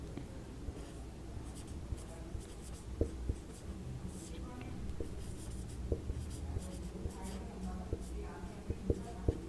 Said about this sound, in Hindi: यहाँ पे हम नीचे लिख देते हैं इस प्रकार से